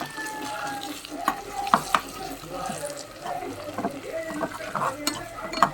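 Dried red chilies, curry leaves and cumin-pepper powder frying in hot oil for a tempering, giving a steady close sizzle with bursts of crackle and the clink of a stirring spoon.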